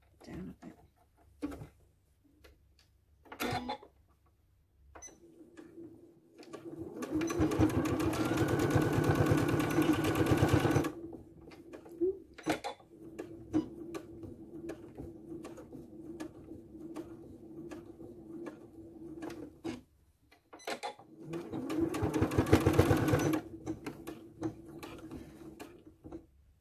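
A sewing machine stitches a king size duvet cover in two quiet bursts of rapid mechanical whirring and clatter, with scattered clicks and rustling of fabric between them.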